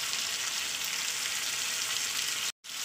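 Ground spices with turmeric and salt sizzle in hot oil for an eel fish curry with eggplant, giving a steady, dense frying hiss with no talk until a sudden brief dropout near the end.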